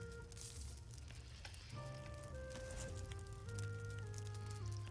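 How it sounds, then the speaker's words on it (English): Boar meat sizzles over a cooking fire in the survival video game Valheim, a steady close frying crackle with soft game music tones running over it. "Looks like we've got one more boar meat to cook."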